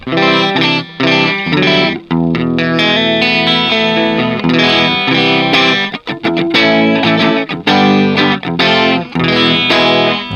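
Electric guitar through a Flamma FS06 preamp on its pixie tone setting, playing busy chordal riffs with a bright, slightly gritty amp tone, steady and loud with brief gaps between phrases.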